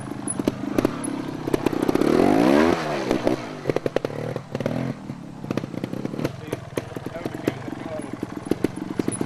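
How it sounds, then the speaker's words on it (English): A trials motorcycle rolls downhill with the clutch slightly covered to keep the engine running, a steady engine note broken by clattering and scraping from the terrain, with a voice talking over it. "So we're just covering the clutch slightly so we can keep it rolling and keep the engine running."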